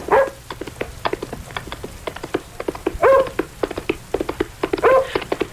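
A dog barks repeatedly in a radio drama scene on a quiet, lonely hilltop road, sharp clustered yaps recurring over a low background hum, fairly close and loud, with no talk.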